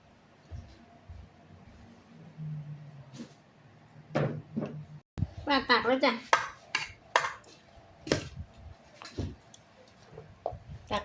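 Plates and dishes clink and knock on a kitchen counter while a spicy Thai instant-noodle salad is served. A run of short, close clatters follows a quiet start, with a voice briefly in the background.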